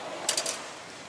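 A metal tool box drawer slides open in a garage shop, a brief rattling metallic rush with a few quick clicks, close and fairly loud against a steady background hiss.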